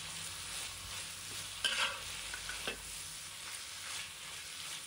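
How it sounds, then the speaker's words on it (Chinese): Garlic leaves and mustard greens are stir-fried in a hot wok, a continuous sizzle broken by a few spatula clanks and scrapes, close and unaccompanied by voices. "再把蒜叶放入锅中，把它炒断生"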